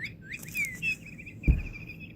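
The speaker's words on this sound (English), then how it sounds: "So this one is a bird. And it makes noise when you touch it." A bird-shaped cat toy gives a series of short, high electronic chirps and trills when touched, fairly faint, followed by a soft thump of handling.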